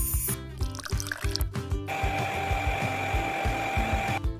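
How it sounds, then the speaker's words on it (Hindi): A mixer grinder blends beetroot, carrot and mint with water. Partway through, its motor kicks in with a steady, whining whir that holds to the end, over a pulsing low beat. "इसे विदाउट पानी ग्राइंड करना है या विद पानी विद पानी"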